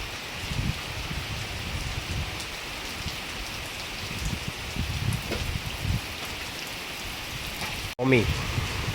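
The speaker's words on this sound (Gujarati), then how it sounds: "અરે બાપરે, વરસાદ તો બહુ" Heavy rain pours down steadily, a dense, loud hiss of drops on surfaces that barely changes, with one sharp knock near the end.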